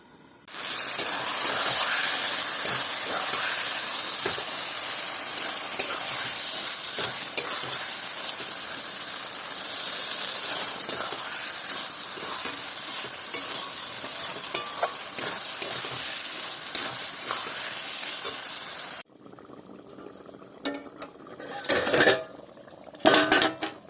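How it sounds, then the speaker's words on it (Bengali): Chicken with coconut cooks in a pan, giving a loud, dense sizzle with continual stirring scrapes and clatter, then a sudden drop to quieter bursts of sizzling and knocks as the pan is covered. "দু মিনিট অন্তর অন্তর ঢাকবো আর নাড়বো"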